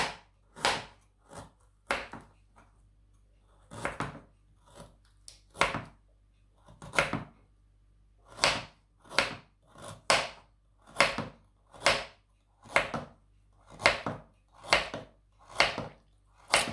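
Steady knife chopping carrots on a board, about two sharp cuts per second with brief pauses, close and clear with no talking.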